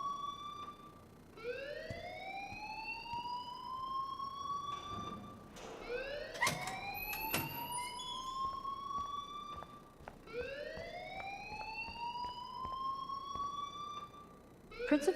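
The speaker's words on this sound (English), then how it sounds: "please turn off that alarm since that's your job" School fire alarm in the video game Life Is Strange, a loud rising siren-like wail that sweeps upward and repeats in long cycles, with brief clanks between the sweeps and no talk.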